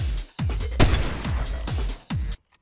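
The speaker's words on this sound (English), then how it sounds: "Who's shooting us?" Rapid gunfire in the video game Fortnite, a run of loud sharp shots in bursts with short gaps, ending abruptly.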